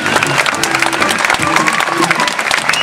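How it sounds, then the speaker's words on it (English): An audience at a jazz quintet concert claps in a dense, loud burst of applause with some cheering mixed in, filling the short stretch. "Give yourselves a big round of applause."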